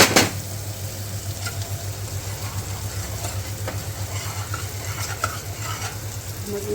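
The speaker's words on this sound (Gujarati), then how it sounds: "હવે એમાં આપણે નાખી દઈશું દાળ." Moong dal is tipped into a hot chilli tempering and stirred, giving a continuous close sizzle with occasional scraping taps over a low, pulsing burner hum.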